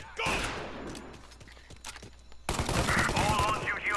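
Loud bursts of Tommy gun fire in Mafia: Definitive Edition on PS4 crackle in rapid volleys, pausing briefly before another intense sustained burst, with faint voices mixed underneath.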